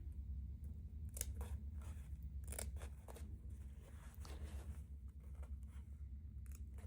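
Scissors trimming fabric close to quilt stitching, a few crisp snips and crunches scattered through a quiet room over a low background hum.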